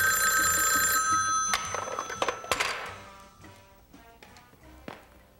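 An electronic telephone ringer trills loudly for about a second, then stops, followed by a few scattered taps and clicks that die away into quiet.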